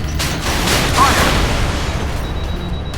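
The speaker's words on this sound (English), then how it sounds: "Missiles ready for launch, sir." Missile launch from the JS Ashigara warship in Modern Warships, a continuous loud roaring rush that stays steady for a few seconds with a slight swell in the middle.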